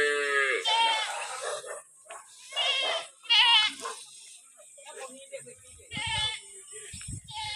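Goats bleat while grazing alongside cows in a Kenyan village in the morning, with several harmonic bleats mixed in among nearby people talking.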